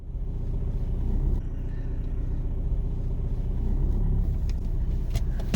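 Car driving through Liverpool city centre, a steady low engine and road rumble heard from inside the vehicle, continuous and fairly loud with faint ticks near the end.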